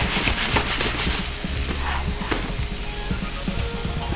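Cognac sizzling and cooking off in a hot pan while making chopped liver, a loud, steady bubbling sizzle with scraping and stirring throughout.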